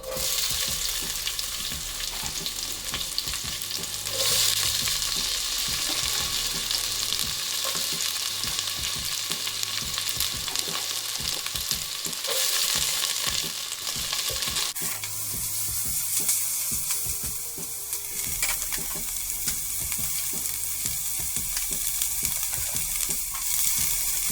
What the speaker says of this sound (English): I'm going to add a couple tablespoons of olive oil, my garlic and onion,